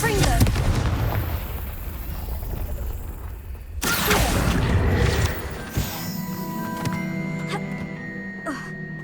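Confringo fire spells burst in Hogwarts Legacy, with a run of booming explosive hits and a loud crash partway through, then ringing magical tones and lighter effects.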